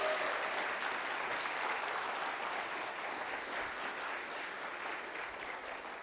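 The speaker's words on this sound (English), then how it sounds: "Let's give it a round of applause for our graduates." A church congregation applauds its graduates during a worship service, with steady, full clapping from many hands sustained evenly throughout and no talking over it.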